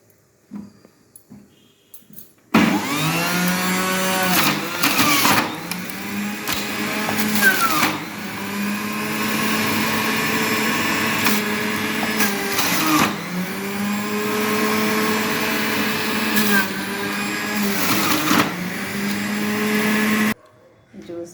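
Electric juicer pressing bottle gourd into juice, a steady loud motor whine with a rising and falling pitched hum that runs continuously for about eighteen seconds, starting and stopping abruptly.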